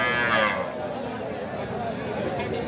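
Young bulls and calves at a crowded Bangladeshi cattle market, with a short moo near the start rising over a constant din of people talking and market bustle.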